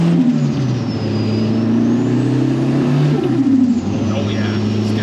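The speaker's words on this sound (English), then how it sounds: "The induction noise is sick." Big-turbo Nissan S15 engine with anti-lag gives a loud, close induction roar with steady droning tones and a rising pitch sweep, while people talk over it.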